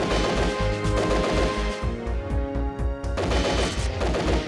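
A gun in the Project Minerva Professional video game fires in rapid repeated bursts, loud, close shots in a steady rhythm over game music, with a short lull in the middle before the firing picks up again.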